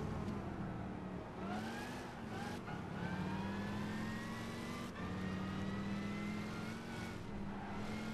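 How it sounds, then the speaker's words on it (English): Engine of a 1969 Camaro race car in Gran Turismo 5, a steady loud high-revving drone with rising pitch sweeps through gear changes as the car races, alone without talk. "Do you see how quick that car's going?"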